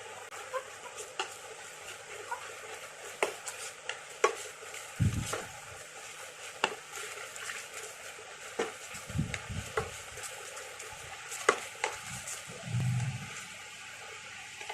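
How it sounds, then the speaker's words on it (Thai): A spoon stirs an oyster sauce mixture simmering in a pan for garlic sauce on fried chicken, giving quiet, irregular scrapes and taps against the pan over a soft, steady sizzling hiss, with no talking. "เราก็จะคนให้มันเคี่ยวสักนิดนึง"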